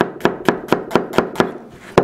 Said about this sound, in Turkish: Soğanlarımızı yemeklik doğrayacağız.